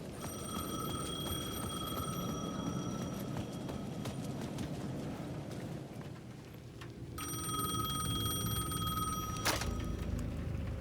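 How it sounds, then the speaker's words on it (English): A payphone at the edge of a plaza rings in Alan Wake 2, a steady electronic bell repeating in two long bursts separated by a short pause, heard over a low ambient rumble and footsteps, with no speech. "The payphone at the edge of the plaza was ringing again."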